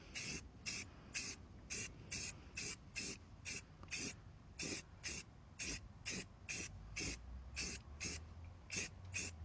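Spray paint going onto old Chevy truck wheels in thin coats, a rapid series of short hissing bursts repeated evenly, fairly close and alone.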